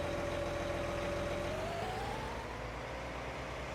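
Case tractor engine in Farming Simulator 19, a steady loud drone with a faint rising whine, running continuously alone.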